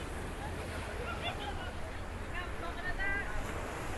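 Rough, choppy surf at Puka Beach during high tide, a steady broadband wash of breaking waves with wind buffeting the microphone and a faint murmur of people in the background.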